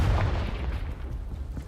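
A Confringo spell explosion in Hogwarts Legacy bursts with a loud deep boom at the start, then rumbles and fades over the next second.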